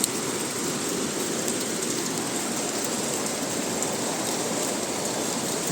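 Rain falls in Valencia, Spain, onto a patio below a window: a continuous, even hiss of drops with no voices.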